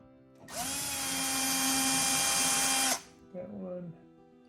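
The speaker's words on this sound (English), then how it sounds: "I think we have to remove these two Phillips head screws." A cordless power drill backs Phillips head screws out of a gas dryer, one sustained whirring burst of about two and a half seconds, close and loud, followed by a short softer buzz.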